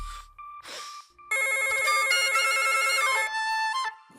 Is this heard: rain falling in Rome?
no